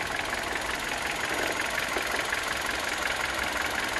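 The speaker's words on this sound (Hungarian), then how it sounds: "Hallgassuk meg a motorját is." A Kia cee'd 1.4 CVVT car engine idles steadily, a continuous even hum with faint mechanical ticking, heard up close with no one talking.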